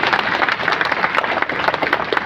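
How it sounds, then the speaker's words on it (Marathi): A crowd at a public talk claps loudly and continuously, a close, dense wash of hand claps with slight rises and dips over a couple of seconds. "टाळ्या जोरात वाजवा"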